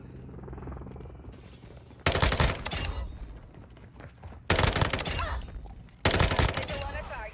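Close air support gunfire booms in Modern Warfare 2, with three heavy bursts of rapid fire spaced a couple of seconds apart, each loud and rumbling over a low engine drone.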